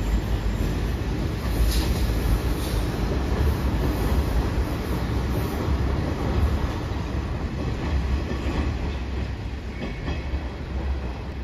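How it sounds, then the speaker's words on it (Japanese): Hanshin Railway 5700 series local train departing Mikage station, a loud steady rumble of wheels and motors with faint clicking rail joints that carries on throughout. "阪神電車の最新鋭の各駅停車列車5700系がちょうど今発車していきました。"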